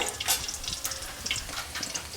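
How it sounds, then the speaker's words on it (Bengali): Paneer fries in a pan in a home kitchen during Janmashtami puja cooking, a fairly quiet, crackly sizzle with scattered spits and pops throughout, with faint stirring or water sounds mixed in. "এদিকে হচ্ছে পনির ভাজা চলছে"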